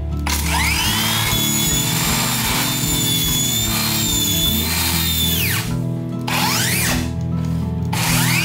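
A power drill whirs in repeated short bursts as it backs screws out of solid wood ceiling boards, each spin rising and falling in pitch, close and loud with brief pauses between.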